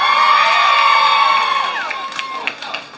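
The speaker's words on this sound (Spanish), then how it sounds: "Aplausos para la señora." A crowd at an outdoor contest in Moyogalpa cheers and shouts loudly for a woman contestant, with high excited voices and whoops that gradually fade into scattered yells.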